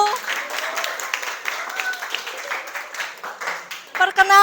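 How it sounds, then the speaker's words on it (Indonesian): A classroom audience applauds a student group, a dense, continuous patter of many hands clapping that swells and fades over several seconds, with voices chattering underneath. "Beri aplaus untuk kelompok 1."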